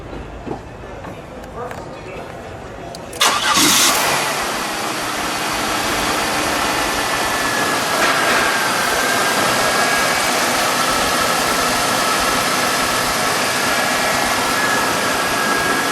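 A 1998 Buick Riviera's front-wheel-drive V6 engine cranks and catches after a few seconds of quiet, then settles into a steady, smooth idle.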